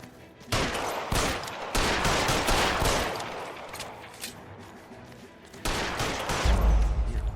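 Gunshots fired by the player in the video game LA Noire, several loud bursts of shots and rattling gunfire with echoing tails, spread across the clip amid noisy game action.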